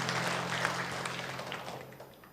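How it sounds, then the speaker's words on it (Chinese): Applause from a church congregation during a Sunday worship service, a steady wash of many hands clapping that fades gradually over a couple of seconds, with no speech over it. "我们再次给他们来掌声鼓励"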